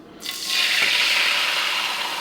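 Egg whites, about 170 grams, hit a preheated, bent pan and break into a loud, steady sizzle that starts suddenly and holds close and bright until the end.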